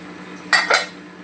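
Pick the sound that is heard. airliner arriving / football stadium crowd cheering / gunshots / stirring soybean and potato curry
stirring soybean and potato curry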